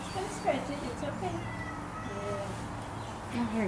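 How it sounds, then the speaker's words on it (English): A domestic cat meowing several times in short, faint calls scattered through the stretch, with a person talking quietly nearby. "I'm hearing kitties."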